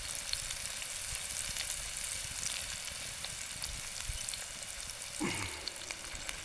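Onion, turmeric and garlic paste fry in oil over an outdoor farm wood-fired stove, giving a loud, steady, close sizzle and crackle throughout, with a brief clatter near the end and no talking.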